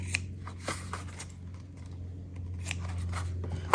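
Scissors snipping the ends of ribbon on a Halloween craft, heard as a few close, crisp cuts with soft handling rustle between them.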